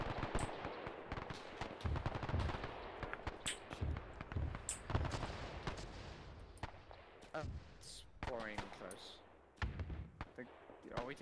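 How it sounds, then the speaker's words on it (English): Dense, rapid gunfire in the World War II game Task Force Athena during the Battle of Tarawa: steady cracking bursts of machine-gun and rifle fire throughout, with voices speaking over the shooting. "We're taking fire from somewhere."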